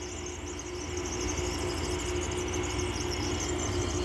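A window air conditioner runs with a steady broadband whoosh of blowing air, a constant low hum and a faint high whine, close and unbroken.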